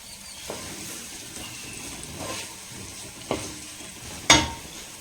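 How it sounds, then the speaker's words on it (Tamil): Onion and curry leaves sautéing in hot oil, a steady soft sizzle with a few scraping stirs of a spoon against the pan and one sharper clink near the end. "வெங்காயமும் கருவேப்பிலையும் வதங்கிட்டு இருக்குது"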